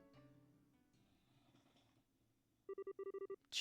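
Telephone dialing in the Trails in the Sky video game: a quick run of bright, evenly spaced DTMF keypad tones near the end, following quiet background music, with no talk.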